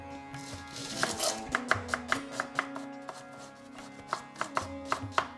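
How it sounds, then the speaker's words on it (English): A medium-sized onion finely chopped with a knife on a board, a steady run of close, crisp, evenly spaced chopping taps over faint background music. "I am going to finely chop one medium-sized onion"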